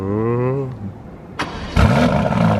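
An 850 hp twin-turbo V8 Mercedes-AMG GT Black Series roars to life with a sharp crank and burst, settling into a loud, rumbling idle; a voice speaks over it earlier, before the start.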